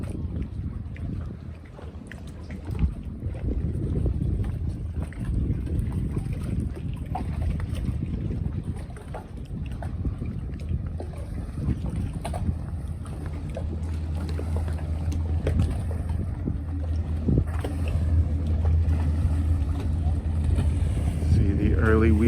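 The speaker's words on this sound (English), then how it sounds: "Early weekend boat traffic starting to pick up." Motorboats run on Lake Minnetonka on a weekend, their engines droning as a continuous low rumble that builds toward the end, with wind noise buffeting the microphone.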